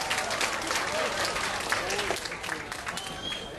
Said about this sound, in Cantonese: 俾多啲掌聲啦